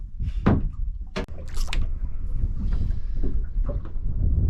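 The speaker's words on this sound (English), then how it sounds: "The wind's picked up a little bit, so it's changed the angle of drift slightly." Wind blowing at sea over a drifting fishing boat on a cool winter day, a loud, steady rush and buffeting across the whole stretch, with a few sharper gusts and knocks near the start and no talking.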